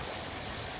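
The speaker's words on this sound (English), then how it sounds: "I like the sound of the water there." Water from a small pond waterfall splashes and trickles as a steady, soft, even wash with no talking.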